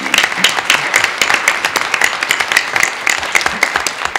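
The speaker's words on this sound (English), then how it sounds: "give a round of applause to the entire panel" Audience applause for a discussion panel at a public forum on racial and economic equity, a steady patter of many hands clapping at moderate volume, with faint talk mixed in.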